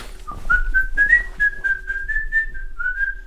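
A person whistles a disdainful tune in imitation, one continuous run of rising and wavering notes, close, clear and loud, with no talk over it.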